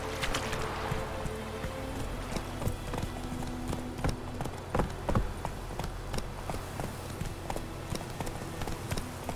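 Roach, Geralt's horse in The Witcher 3, gallops with rapid rhythmic hoof clip-clops near and clear over a low rumbling game ambience, no speech.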